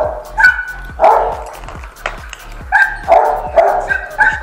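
A bulldog-type dog barks in short, loud bursts close by, about eight sharp barks in a quick uneven rhythm with brief gaps between them.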